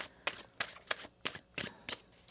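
A tarot deck is riffled in six quick, evenly spaced bursts of crisp card flutter, close and fairly quiet, with no talking.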